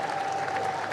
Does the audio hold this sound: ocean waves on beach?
no